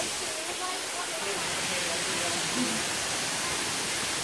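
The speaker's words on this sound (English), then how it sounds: "Okay, that's a pretty tall waterfall." Manoa Falls, a tall waterfall, gives off a steady, soft broadband rush from some distance, faint and continuous, with a hint of voices beneath it.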